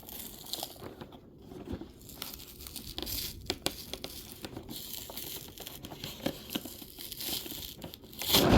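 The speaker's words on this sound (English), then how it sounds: "Let's unbox this now. Okay, I guess I'll peel from this side." Plastic packaging on a Thomas metal collection toy engine being peeled open, close crinkling and tearing that crackles on and off throughout, swelling to a louder rip at the very end.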